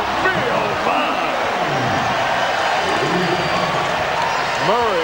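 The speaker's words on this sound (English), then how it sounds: "Murray brings the crowd to life." At a 1997-98 NBA game between the Chicago Bulls and LA Clipers, a basketball arena crowd roars and cheers in a dense, sustained wash of noise, with a commentator talking over it.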